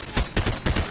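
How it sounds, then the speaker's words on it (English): Several bursts of rapid gunfire from a video game, three loud broadband volleys in under a second, with no talk over them. "Who's shooting?"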